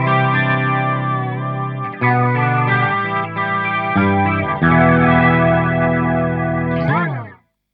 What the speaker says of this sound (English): now I'm going to bring the detune in a little bit more. That sounds a little bit like a 12-string actually